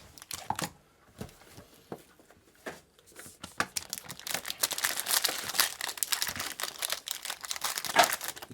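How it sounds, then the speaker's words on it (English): Foil packs of Panini Obsidian 2024/25 trading cards being torn open and crinkled up close, sharp irregular rips and crackles that grow denser in the second half, no voices. "Nothing like ripping a product like this."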